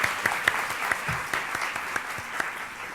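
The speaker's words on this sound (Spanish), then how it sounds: "Le damos un fuerte aplauso a nuestras panelistas y a la moderadora." Applause for the panelists and moderator at the close of the final colloquium of an international early childhood and early intervention seminar, a steady patter of clapping from a moderate crowd with a few sharper individual claps standing out.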